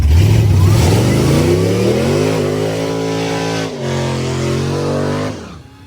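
Cadillac CTS-V wagon running on E85 revs hard through a burnout at a drag strip, a loud sustained engine roar with rising pitch and a brief dip near the end before it cuts off.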